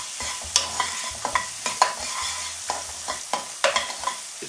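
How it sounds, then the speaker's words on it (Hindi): Chopped onions and finely cut green chillies frying in a pan, stirred with a run of roughly a dozen crisp scraping strokes over a soft sizzle, close and alone with no voices. "प्याज को अच्छे से मिलाएंगे, साथ में डालेंगे हरी मिर्च"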